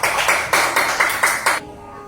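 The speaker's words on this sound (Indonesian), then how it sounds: "tepuk tangan untuk kelompok 3" A small classroom group claps for a presenting team in a lesson on environmental issues, a short burst of about seven sharp, rhythmic claps close by before stopping abruptly.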